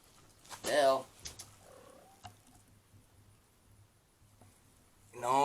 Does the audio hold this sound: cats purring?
yes